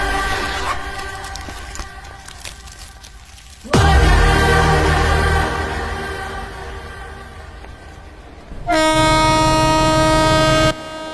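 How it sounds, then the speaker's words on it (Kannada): A train rumbles past a station platform at close range, a loud continuous roll of wheels and wagons, with a long blaring horn joining in near the end; no talk over it. "ಅಲ್ಲಿ ಟ್ರೈನ್ ಓಡ್ತಾ ಇದೆ"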